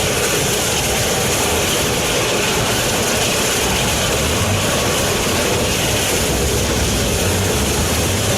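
A narrow gauge train at Roaring Camp & Big Trees rumbles steadily along the tracks through forest, a constant close rolling and rattling noise with no talk.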